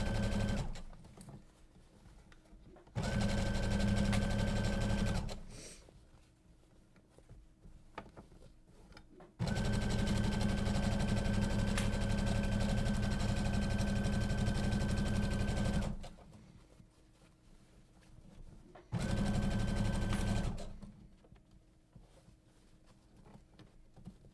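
A sewing machine stitches the curved seam of a tote bag in three loud, steady bursts of running, separated by quiet pauses between passes.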